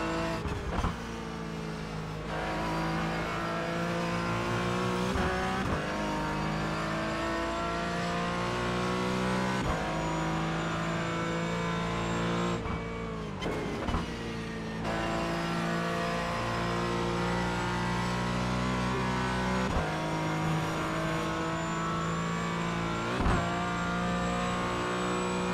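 A Falken GT4 race car at full throttle around the Nordschleife, its engine roaring loud and close with rising and falling revs as gears change, plus brief dips where the throttle lifts over bumps.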